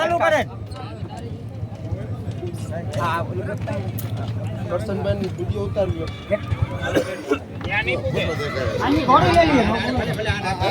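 A mare neighs at a village fair with horse racing, the whinny rising amid a crowd's loud chatter and shouting that runs throughout.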